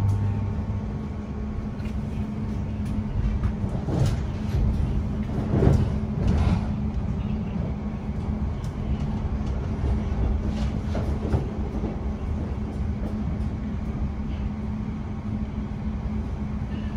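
London Overground train running toward Enfield Town, a steady rumbling ride from inside the carriage with low-frequency drone and occasional rail clicks and squeaks, continuous and moderately loud throughout.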